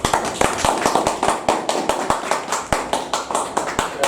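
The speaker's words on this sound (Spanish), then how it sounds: "Aquí le damos un caluroso aplauso." Audience applause after a lecturer is introduced at an evening session of a law diploma course, with sharp, irregular hand claps that sound fairly sparse and close, steady for about four seconds.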